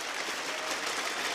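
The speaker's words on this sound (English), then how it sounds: "Please give them a big round of applause." A studio audience at the Rainbow Six Siege Invitational 2018 esports event applauds the guests, a steady dense wash of clapping that stays even and fairly loud throughout.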